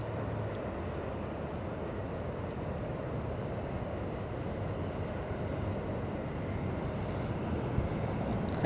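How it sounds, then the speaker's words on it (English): A Boeing 767 airliner passing at Los Angeles International Airport produces a steady, even jet roar with a broad low rumble that holds at a constant level throughout, heard at some distance with no voices. "there goes the 767."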